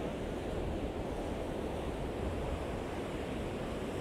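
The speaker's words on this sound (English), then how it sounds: "there's a fair bit of wind and a fair bit of surf on today" Steady roar of sea surf and wind on the beach at Hornsea North End on the East Coast, a continuous broadband wash of breaking waves with wind noise, no voices.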